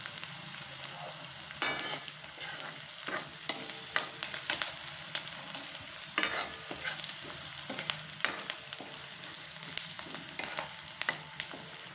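Onion frying in a pan for a wild bitter gourd dish, a constant close sizzle broken by repeated clacks and scrapes of stirring, with no talking.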